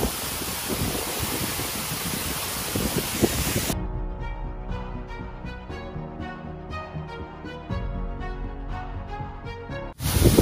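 Lamo waterfall near Muglin, Nepal roars as a dense, close rush of falling water for the first few seconds, then cuts abruptly to music.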